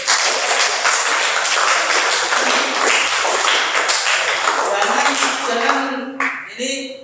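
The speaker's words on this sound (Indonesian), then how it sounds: "kita kasih aplaus dulu" Classroom applause from a group of students, a dense sustained patter of clapping that fills the room, tapering off at the end as voices begin to talk.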